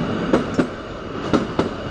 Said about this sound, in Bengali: ট্রেনটা বেঁকে আবার সোজা হয়ে গেল